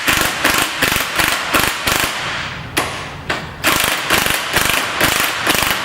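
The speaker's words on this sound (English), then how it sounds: "The electric gun is very good." Electric impact gun undoing a front shock absorber nut on a Janspeed Granada 4x4, firing in loud, close, rapid rattling bursts with two short pauses in between.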